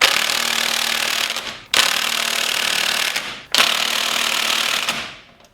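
Impact wrench rattling wheel nuts tight on a Ford Sierra Cosworth, three loud, close buzzing bursts of about one and a half seconds each with brief gaps between, no voices.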